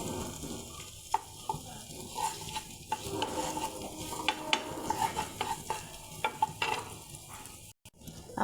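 Green chillies, onion and garlic fry in a pan with a close, crackling sizzle, broken by frequent spatula scrapes and stirring clacks against the metal.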